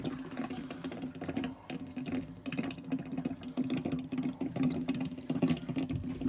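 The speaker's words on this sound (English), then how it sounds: "I'm actually going to use the water heater to put the water in my bucket." Water drains steadily from a water heater into a bucket, a continuous splashing rush with a low resonant hum throughout.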